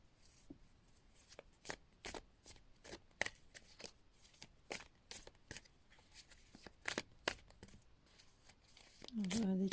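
Osho Zen tarot cards are shuffled and drawn by hand, giving a long run of sharp, close, irregular flicks and slaps, quiet between strikes, with a voice coming in briefly at the very end.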